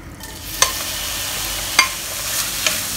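Grated ginger frying in sesame oil in a non-stick pan, giving a soft, steady sizzle broken by three brief spatula clicks, with no voices.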